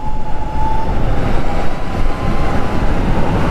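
Harley-Davidson LiveWire electric motorcycle, 2024 model, ridden at speed: a steady high electric motor whine, nearly a pure tone, sits over continuous broadband wind rush and road roar for the whole stretch, with no speech.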